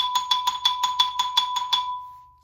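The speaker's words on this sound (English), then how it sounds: "If we do try to double bounce, rubber ones are not going to make it happen for us at all." Orchestra bells struck with rubber mallets in a fast double-bounce pattern, about ten quick bright metallic strikes with a clear ringing tone, close and alone, the last note ringing out and decaying.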